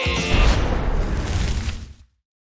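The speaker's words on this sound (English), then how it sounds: "Listen to the bass go boom" A loud, bass-heavy explosion sound effect booms out with a deep low-end rumble, sustaining for about two seconds before cutting off abruptly into silence.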